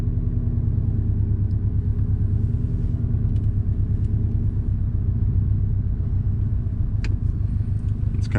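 A Subaru STI driven on a rainy road gives a steady, deep exhaust and intake drone heard from inside the cabin, continuous and fairly loud, with a few faint clicks near the end.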